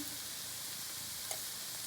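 Fenugreek and potato curry with spices is stirred in a pan, giving a faint, steady low sizzle with one brief soft clink partway through and no talking.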